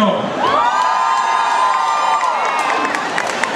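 Concert crowd in Atlanta erupts in loud, sustained cheering, whooping and shrill screams, close and continuous throughout.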